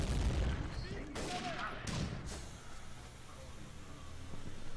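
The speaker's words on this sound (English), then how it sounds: "Everybody's just shooting round" Gunfire in the Day of Defeat video game: repeated loud bursts of shots and booms crackle through the whole stretch, with voices faintly underneath.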